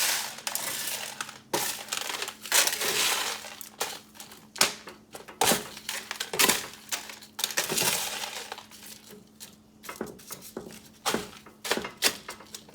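A spoon stirs croutons and other dressing ingredients in a bowl, making irregular crunchy scrapes and clinks in quick bursts. The sounds are close and moderately loud, with no talking.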